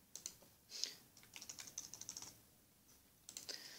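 Quick bursts of typing on a computer keyboard while entering data into a spreadsheet cell, clicking in short irregular runs with brief pauses, close and clear, with no voices.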